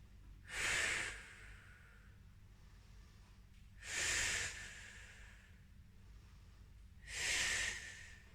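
Three slow, deep breaths taken while holding child's pose in a home Pilates workout, each a soft airy hiss of about a second, evenly spaced and close, with quiet pauses between.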